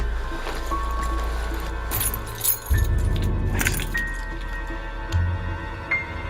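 Car keys jangle and clink faintly in a movie scene, set against a steady low rumble and background hum.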